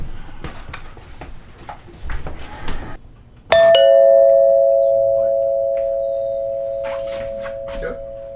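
A newly installed hardwired doorbell rings once in a room of a home addition under construction, giving a loud two-tone chime that hangs on and slowly fades. Shuffling and brief talk come before it.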